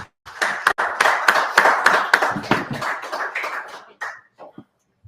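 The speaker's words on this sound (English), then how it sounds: "round of applause for Gage Bruce" Applause from a crowd at a high school boys basketball game broadcast, clapping loudly and steadily for about four seconds before thinning out to a few scattered claps.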